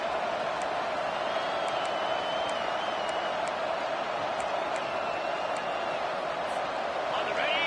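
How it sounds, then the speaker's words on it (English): A loud, sustained roar from a big American football stadium crowd as the opposing offense nears the goal line, constant throughout, with faint whistles and shouts rising out of the din. "It is getting loud as this crowd tries to help its defense."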